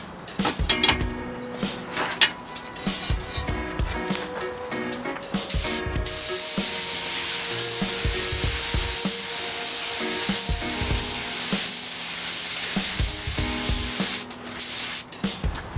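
Spray gun laying a second coat of paint through a mini gun at low air pressure, a steady continuous hiss running from about six to fourteen seconds, preceded and followed by clattering handling noises; no talk.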